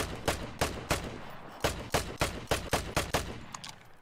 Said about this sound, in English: maybe I can shoot him